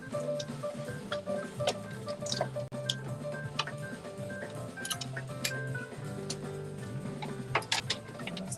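A sewing machine stitches all the way around a clutch bag, giving a quiet, steady mechanical ticking and whirring with no talk.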